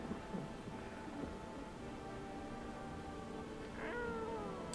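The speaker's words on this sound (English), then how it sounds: "Where's the cat?" A cat in the video game No I'm Not A Human gives a drawn-out meow near the end, heard over a constant low rumble of rain and thunder, faint and muffled.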